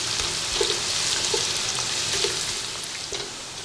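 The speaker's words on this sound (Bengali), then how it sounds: "পেঁয়াজ দেওয়ার পর ব্রাউন করে এবার ভেজে নিতে হবে।" Sliced onions sizzle steadily in hot oil in a pan, close and crackling, with faint stirring scrapes, while browning for a Kolkata-style chicken biryani.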